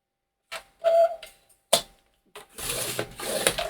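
Cardstock being scored on a scoring board, heard as a few short scraping strokes and clicks separated by pauses, followed by longer rough scratching passes, close and fairly loud with no talking.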